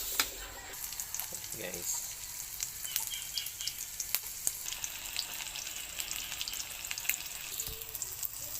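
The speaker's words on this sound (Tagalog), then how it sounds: "Prito na natin." Food frying in a pan, a steady close sizzle with crackling pops running throughout, with a person briefly speaking over it.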